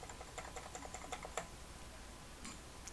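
Computer keyboard keys tapped repeatedly in an illustration program, a quick run of light clicks followed by a pause and a final tap, faint and close.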